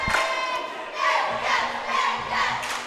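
A large crowd at a high school basketball game between the Christopher Bearcats and the Cobden Appleknockers cheers and shouts in a loud, continuous roar that swells in waves.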